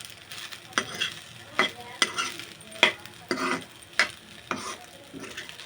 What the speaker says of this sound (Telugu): గరం మసాలా ఒకసారి కలుపుకోవాలండి